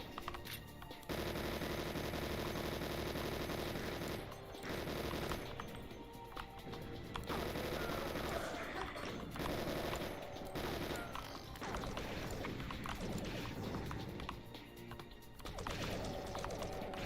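Rapid video-game gunfire crackles through nearly the whole stretch in dense bursts and sustained volleys, loud and close, with brief pauses and some crashing impacts mixed in.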